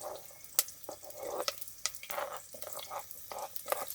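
Onions sizzling in a cooking pot at a mountain campsite, a soft steady frying hiss broken by several sharp crackles and pops, with the clink of stirring close by and no voices.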